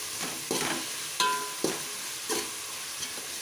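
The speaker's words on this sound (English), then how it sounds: "So the green masala also has to be fried till the raw smell goes." Green masala of mint, ginger garlic and green chilies frying for veg pulao, a soft steady sizzle broken by several close stirring scrapes and clinks of a spoon in the pan.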